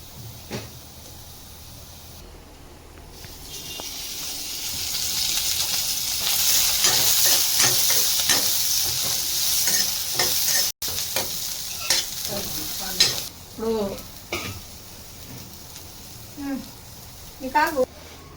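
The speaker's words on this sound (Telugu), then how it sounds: "ఇందులో కొద్దిగా ఆయిల్ వేసి వేపుకోవాలి ఉల్లిపాయలు" Onions sizzle in a little oil in a pan while a rayalaseem-style stuffed brinjal curry is prepared, a steady frying hiss with scattered scrapes and clinks of stirring, and a voice talking briefly near the end.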